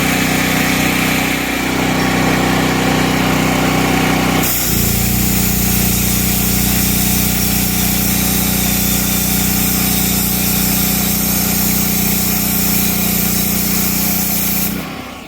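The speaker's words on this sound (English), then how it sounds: "Super loud because I have to run the generator." A petrol generator drones loudly and steadily throughout while wood is sawn for a sheep shed frame, with a harsher cutting burst in the opening seconds before the tone shifts and the engine keeps running alone.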